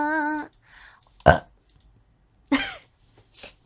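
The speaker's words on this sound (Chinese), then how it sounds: "打了个嗝。" A VTuber lets out a short, loud burp between stretches of her own speech, with quiet gaps around it and a few more brief vocal sounds after.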